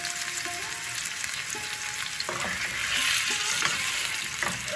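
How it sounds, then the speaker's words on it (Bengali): Potatoes sizzle and crackle in hot oil in a kitchen pan, a steady frying hiss with occasional stirring scrapes, close and moderately loud with no voices. "তেলটা হয়ে গেছে, এবার আলুটা দিয়ে দিলাম।"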